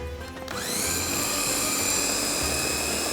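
A blender grinds unsalted peanuts with honey into smooth peanut butter, its motor starting up and then holding a loud, steady, high-pitched whine that stays close and continuous throughout, with no voices.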